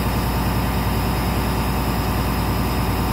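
A Thomas school bus engine idles steadily after a cold start, a continuous low rumble with a faint buzz above it, close and unchanging throughout.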